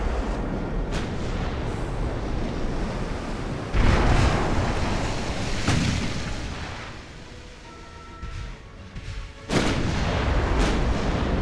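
Naval gunfire from warship guns in Ultimate Admiral: Dreadnoughts, several heavy booming shots at irregular intervals over a constant roar of ocean surf and wind.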